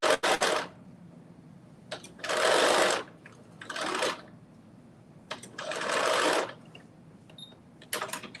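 Sewing machine understitching pocket seams on a garment, running in short bursts of steady whirring with quiet pauses between, close and clear with no talking.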